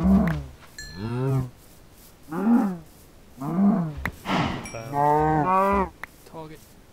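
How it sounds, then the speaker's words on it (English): A Minecraft cow moos repeatedly, about five drawn-out lowing calls spaced a second or so apart, loud and close with no talk over them. "You really want to die, don't you, Mr. Cow?"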